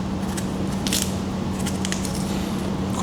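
Scissors snip through a chicken foot, a few crisp cuts close up over a steady hum, with no talk.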